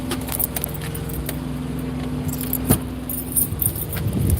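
Keys jangle in a few light metallic bursts while a truck is locked in a parking lot, close and brief, with a car idling in the background.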